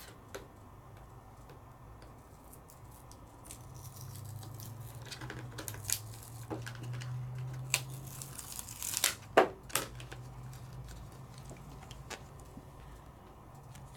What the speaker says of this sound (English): And then I'm going to peel it off.